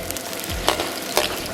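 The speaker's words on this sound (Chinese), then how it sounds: "油热以后啊，咱们把葱蒜给它下里边，然后再给里边来把蒜，小火给它炒香。" Scallions and garlic hit hot oil in a wok and stir-fry over low heat, with a continuous sizzle and a couple of sharp spatula scrapes.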